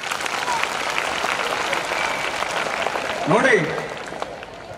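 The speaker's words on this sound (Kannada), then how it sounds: "ಒಂದ್ಸಲ ಚಪ್ಪಾಳೆ ತಟ್ರಿ" A school farewell ceremony audience breaks into a dense wash of applause that swells near the end, while a voice speaks over it.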